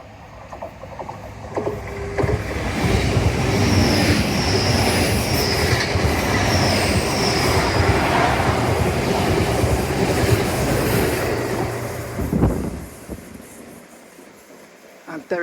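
A train rolls past close by for most of the stretch, a steady rumble with rhythmic wheel clatter and high squeals, fading away near the end.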